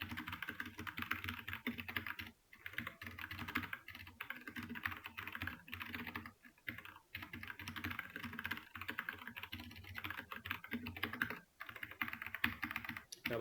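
Steady computer keyboard typing as code is entered during a Java programming lesson, a continuous patter of keystrokes with brief pauses, close and moderately quiet, with no talking.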